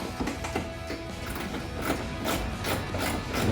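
A 1/4 inch drive ratchet tightens a headlight bolt on a 2005-2011 Toyota Tacoma, with soft, close clicking in quick runs and faint mechanical rattles between strokes.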